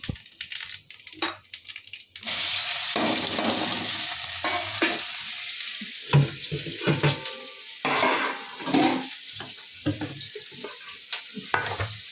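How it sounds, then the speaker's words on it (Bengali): Curry goes into a pan with five-spice tempering and sizzles steadily, with stirring scrapes and clinks of utensils against the pan and a few brief sharper knocks. "তরকারিটা বসিয়ে দিই পাঁচ ফোড়ন দিয়ে দিলাম"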